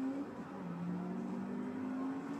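A car engine in Forza Horizon 2 holds a low, steady drone with a slight rise and dip in pitch, continuous and moderately loud, with no voices over it.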